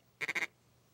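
A duck gives a quick burst of three or four nasal quacks in a tight rhythm, loud and close, on water during a Michigan waterfowl hunt, with quiet ambience before and after.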